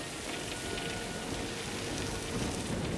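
Heavy rain pours down steadily outdoors, a dense, close wash of drops hitting surfaces with no break and no voices.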